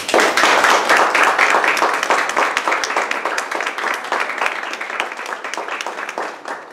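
Audience applause for Carmen Brañanova at a monthly poetry evening, a steady round of close, crisp clapping from a small crowd that fades gradually toward the end.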